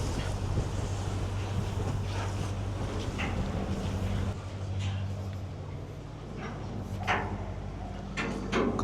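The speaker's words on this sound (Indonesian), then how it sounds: "berombak nih, angin juga sudah mulai bertiup" Wind blows hard over the open sea aboard an anchored boat in rough, choppy weather, a continuous roaring buffet against the microphone with low rumbling swells and occasional gusty spikes.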